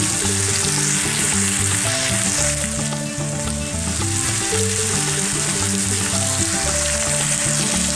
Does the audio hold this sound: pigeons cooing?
no